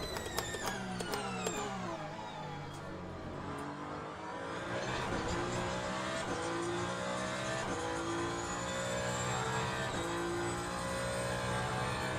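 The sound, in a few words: race car engine at speed in video game Le Mans Ultimate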